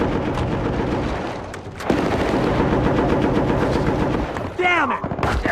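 Sustained machine gun fire in the video game Battlefield: Bad Company, a dense continuous rattle of loud shots, briefly dipping before resuming with a heavy burst, and a shouted voice near the end.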